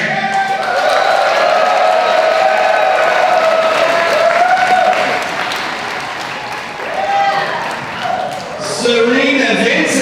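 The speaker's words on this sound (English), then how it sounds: "let's give big rounds of applause" A convention crowd at a Power Rangers fan event bursts into loud, continuous applause mixed with cheering and whoops. Voices ring out over the clapping, which dips briefly before swelling again.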